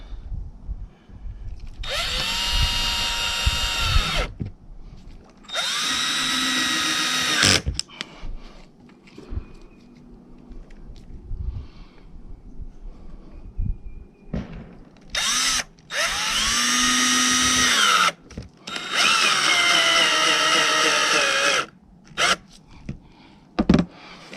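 A power drill drives screws into a camper roof skylight in four long whirring bursts that rise in pitch, separated by short pauses with faint handling clatter, close and loud.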